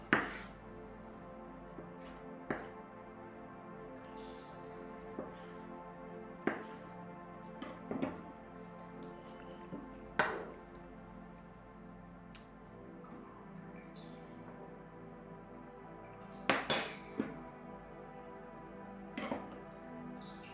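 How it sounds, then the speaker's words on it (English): A knife taps sharply against a cutting board in irregular strokes, dicing tomatoes with soft squishy cuts and occasional clinks in a quiet kitchen. "So we can start by chopping the tomatoes."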